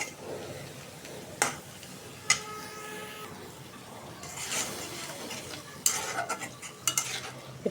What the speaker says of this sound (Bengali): একটু কষাই নিব মশলাটা।